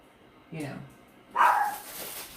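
A household dog gives two short barks, the second louder and closer, spaced about a second apart against a quiet room.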